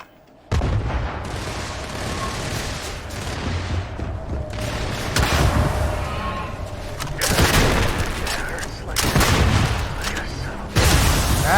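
Gunfire and explosions in the space game Starfield, with loud bursts and booming blasts arriving in waves and short gaps between them, plus quieter stretches of background noise.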